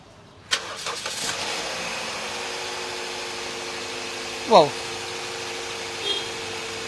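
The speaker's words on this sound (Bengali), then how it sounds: "মাইক্রোফোন একটু কাছে রাখলাম ইঞ্জিন সাউন্ড শোনার জন্য সো স্টার্ট দিয়ে দিই" A 2007 Toyota Premio F petrol car engine cranks and catches with a sharp start, then settles into a steady, even idle recorded close to the engine bay, with one brief rising rev midway.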